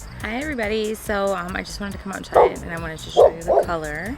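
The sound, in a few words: dog barking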